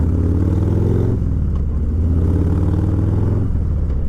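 A 2020 Harley-Davidson Low Rider S engine revs loudly through its 2-into-1 exhaust, a deep throaty drone that dips briefly and then rises again, steady and close.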